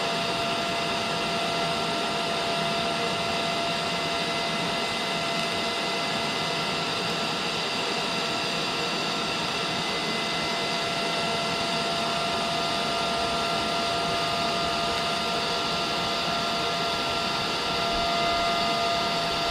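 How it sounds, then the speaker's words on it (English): A brace is TIG welded with ER70S-6 filler rod during a Cobra Daytona build, heard as a steady, unbroken hiss with a constant whine running through it, close and loud throughout. "So we're still continuing to weld the brace"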